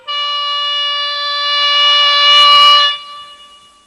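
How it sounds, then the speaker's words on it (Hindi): A homemade bamboo flute in a Stone Age cartoon sounds one loud, steady, reedy whistling note for about three seconds, swelling slightly before breaking off into a brief breathy burst. "हम इस बांसुरी की मदद से किसी जानवर को बुलाने की कोशिश कर रहे थे"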